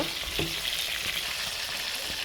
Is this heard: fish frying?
yes